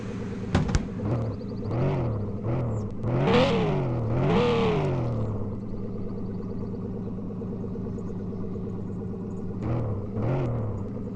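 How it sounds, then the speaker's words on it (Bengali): A modified Toyota Mark 2 car engine revs hard several times in rising and falling bursts, then drops back to a loud, steady idle rumble close by, with no talking. "আর আমার গাড়ির সাউন্ডটা শোনো তোমরা একটু।"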